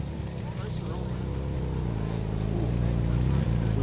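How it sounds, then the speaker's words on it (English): Several Ferraris pulling in at an exotic car show, a dense low engine rumble that builds steadily and stays loud throughout, with voices talking over it. "As we watch a couple of Ferraris pull in."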